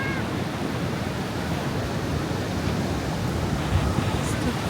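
Rough churning sea surf on a coastline near the US–Canada border, a dense continuous roar of breaking water with wind buffeting the microphone, loud and unbroken throughout.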